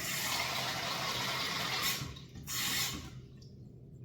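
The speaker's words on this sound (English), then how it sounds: "fill it full of water and put a bit of salt in it" Tap water pours steadily into a container, a broadband rushing that briefly cuts off, resumes, then stops, leaving quiet drips.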